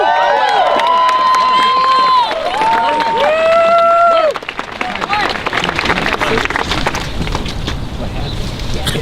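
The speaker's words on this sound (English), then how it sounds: "I just want to give her a big, big, big round of applause for helping us to lead this today" An audience at a Yale rally protesting a shooting breaks into cheering and applause, with whoops and shouts that fade into steady clapping and crowd noise.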